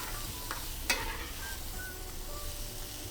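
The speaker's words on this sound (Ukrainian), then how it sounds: "Не забуваємо помішувати." Quiet sizzling of mushrooms frying in a pan, with a utensil stirring and scraping through them, one sharper clack near the start.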